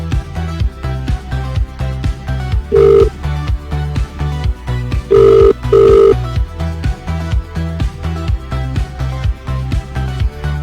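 Telephone ringing with an incoming caller on a live radio call-in show, repeated loud rings in a steady pattern over a rhythmic music bed, no talk.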